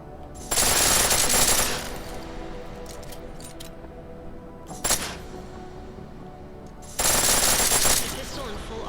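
Pistol switched to full auto in the game Deus Ex: Mankind Divided, rattling off three loud rapid-fire bursts, two long and one short, with quieter game ambience between them.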